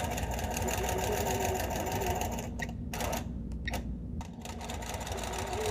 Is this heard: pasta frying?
no